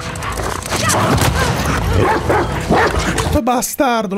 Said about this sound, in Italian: lo sapevo, cane bavoso rognoso di merda.